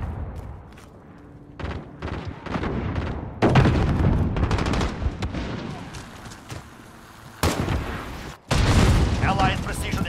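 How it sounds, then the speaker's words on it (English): Heavy booms and bursts of explosions from a precision airstrike in Call of Duty: Modern Warfare, loud and dense, with brief drops between impacts and a renewed barrage near the end. "Allied precision airstrike is now here."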